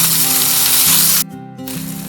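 Chicken fried rice stir-fried in a pan over high flame, giving a loud, steady hiss of sizzling that drops out abruptly for a moment before resuming.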